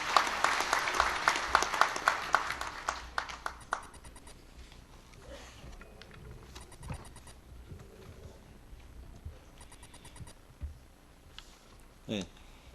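Applause welcoming a vice minister at a labour union delegates' convention in a large hall, loud clapping at the start that thins out and fades within a few seconds, followed by quiet room noise and a few faint knocks.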